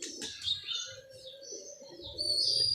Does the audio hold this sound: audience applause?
no